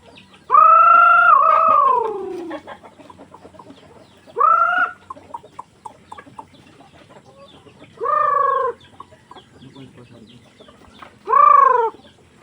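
Chickens at feeding time giving four loud, drawn-out squawking calls spaced a few seconds apart, close by over quiet background.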